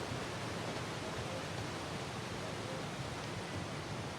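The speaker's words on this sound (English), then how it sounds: "I don't know if you've ever stood in front of a waterfall in real life, but they do sound like that in real life" Loud, steady waterfall roar in the video game Syberia World Before, a dense broadband wash of falling water that holds constant throughout with no speech.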